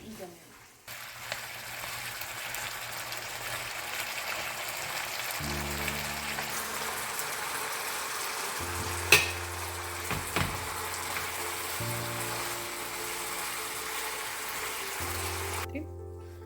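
Beef simmering in taco sauce as the liquid cooks off gives a soft, steady sizzling hiss close by, with faint background hum and a couple of small clinks.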